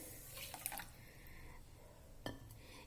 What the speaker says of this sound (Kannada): ಇದಕ್ಕೆ ಈಗ ಕರೆಕ್ಟಾಗಿ 4 ಕಪ್ಪು ನೀರು ಹಾಕಬೇಕು